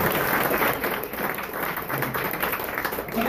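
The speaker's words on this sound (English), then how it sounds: "I've never had this much applause during my set" Dense, continuous audience applause fills a fundraiser comedy set at a speakeasy, a steady wash of many hands clapping for several seconds with no break.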